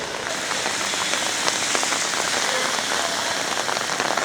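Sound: rain falling on a city street

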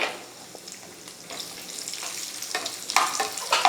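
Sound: nuts and raisins frying in ghee

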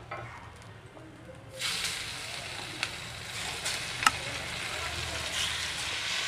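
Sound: frying small hilsa fish in a pan

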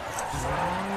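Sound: car drifting and tire squeal in video game GRID Autosport

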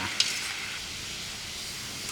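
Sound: mung beans boiling in a pot of water

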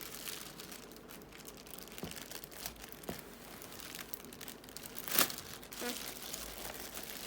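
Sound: plastic wrapping crinkling as Roborock S5 Max robot vacuum is unboxed

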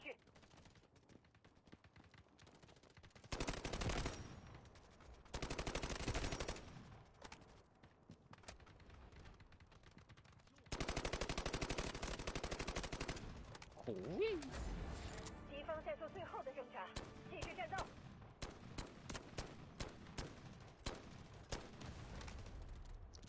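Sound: gunfire in the video game Delta Force

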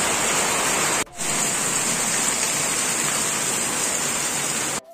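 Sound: rain starting to fall outdoors

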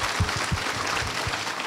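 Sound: audience applause

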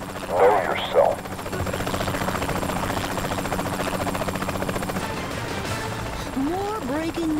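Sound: helicopter flying in video game Saints Row The Third

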